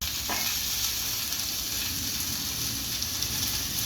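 Rice and moong dal frying in oil for khichdi give a steady, loud, close sizzle and hiss that runs unbroken through the whole stretch with no talking.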